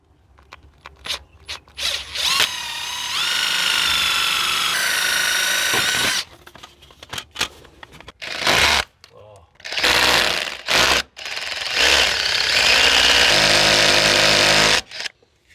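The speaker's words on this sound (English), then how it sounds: "so now I'm just going to quickly drill it out" A power drill whines loudly in several long bursts, grinding through brick, with short pauses and clattering between runs.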